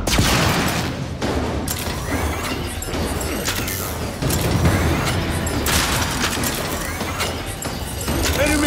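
Rapid gunfire in Gears 5 rattles in dense bursts across the whole stretch, loud and close, with mechanical weapon clatter and heavy booming impacts layered through the barrage.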